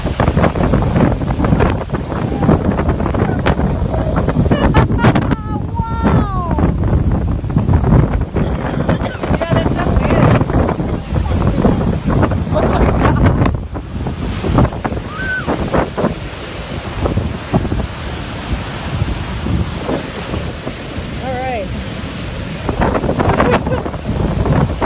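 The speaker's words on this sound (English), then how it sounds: "Look at those waves." Wind-driven surf on Lake Superior pounds the rock at Devil's Washtub, a continuous loud roar of breaking waves with heavy wind buffeting the microphone throughout; a few faint voices surface briefly.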